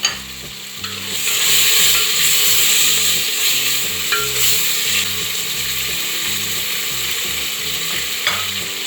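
Onions tempering and frying in a pan for Sri Lankan beef curry: a steady sizzle broken by repeated rhythmic scraping and stirring strokes of a utensil, close and fairly loud, with no talking.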